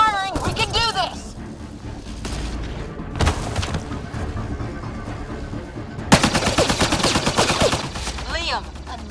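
Rapid gunfire bursts and heavy impacts from a firefight in Mass Effect: Andromeda, loud and dense, with shouted dialogue and explosive booms mixed in.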